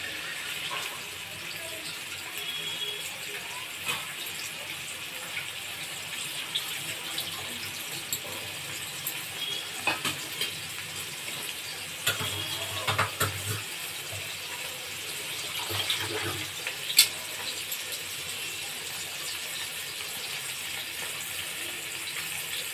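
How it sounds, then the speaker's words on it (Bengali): Pieces of fish frying in hot oil for a Bengali glass-cup fish bhuna give off a steady, hissing sizzle throughout, with occasional small pops and crackles rising above the continuous noise. "মাছগুলো তেলে দিয়ে আমি সুন্দর করে ভেজে নিব"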